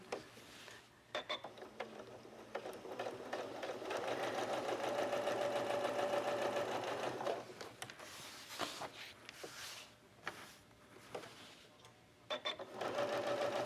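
A sewing machine stitches raw-edged quilt appliqué in bursts of fast, rattling needle action, with a long steady run in the middle and short stops and starts around it, close and without talking.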